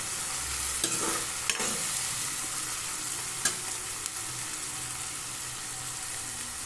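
Tomatoes sauté in a pan for a dried fish curry, giving a soft, steady sizzle with a few distinct spoon taps and scrapes against the pan; fairly quiet and with no talking.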